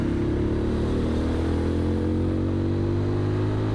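Motorbike engine droning steadily with a low, slightly rising rev tone while riding along a road shared with large trucks, continuous and close, with no talking.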